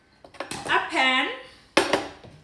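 In a home kitchen, a pan is picked up and set down during cake making, giving a few metallic clanks and scrapes, close and moderately loud, with a brief voice sound mixed in.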